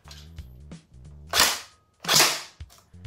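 Krytac P90 airsoft electric gun fired on semi-auto, two sharp separate shots with a motor whir under each, plus a few small clicks and handling sounds between them.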